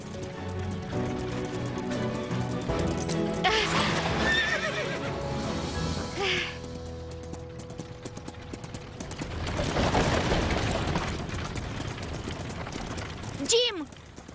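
A horse in an animated farm series whinnies several times, and hooves clip-clop as it runs. The sounds are mixed with other noise and fairly loud, and a sharp rising squeal comes near the end.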